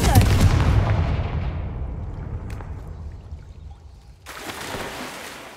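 A booming fire-spell explosion from the Confringo spell in Hogwarts Legacy, a loud, deep blast that rolls off in a long fading rumble, followed by a second crackling burst of fire near the end.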